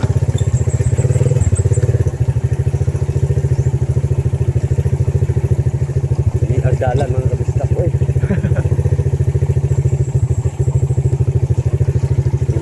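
A motorcycle engine runs steadily and loud throughout, with someone talking over it and occasional clatter.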